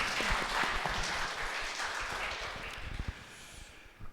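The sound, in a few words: congregation applauding to welcome newcomers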